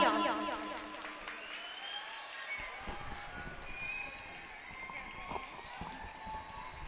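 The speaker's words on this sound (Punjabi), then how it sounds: "ਸੋ ਬੱਚੋ ਉਹਨਾਂ ਲਈ ਜ਼ੋਰਦਾਰ ਤਾਲੀਆਂ" Schoolchildren clap for Punjab's education minister during his visit to a government high school, with scattered, uneven handclaps that grow into a ragged burst of applause while voices carry on over a noisy background.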